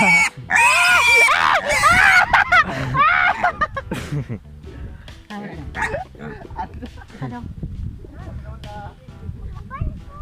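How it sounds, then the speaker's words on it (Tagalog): A pig squeals loudly and shrilly at first, then grunts and snorts repeatedly, with people talking nearby. "Ay baboy ga igik-igik oh."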